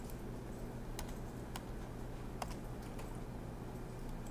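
Keys tapped on a computer keyboard while building a WordPress page, a few sparse, quiet clicks spread over steady background hum.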